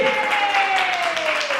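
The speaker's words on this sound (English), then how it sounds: "Give a big round of applause," Applause from a crowd at a ladies' night stage show, a brief burst of clapping with a sustained tone and voices mixed in.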